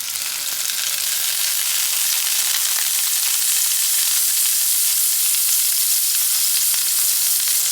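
Butter and olive oil sizzle in a very hot cast iron skillet, a steady, loud, close hiss of frying that holds unbroken throughout with no voices.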